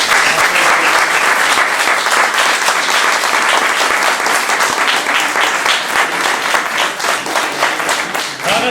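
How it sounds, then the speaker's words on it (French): A crowd at a tribute ceremony breaks into loud, sustained applause, many hands clapping densely and evenly for several seconds without any voices over it. "j'aimerais qu'on fasse une bonne main d'applaudissements"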